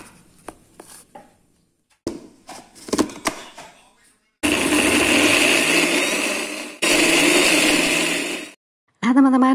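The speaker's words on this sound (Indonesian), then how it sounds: "Blender bumbu tidak perlu tambahkan air di sini, cukup tambahkan tomat." An electric blender grinds a spice paste with tomatoes and no added water, running loudly in two sustained bursts separated by a short pause, after some brief knocks and handling sounds at the start.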